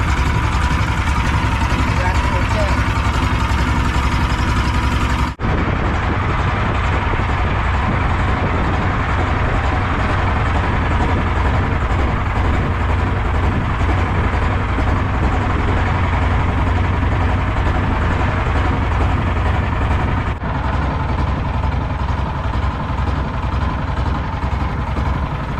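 A new vehicle engine runs steadily for a long stretch on a village road in Demak, Indonesia, a loud continuous hum and rumble close by with two brief bumps.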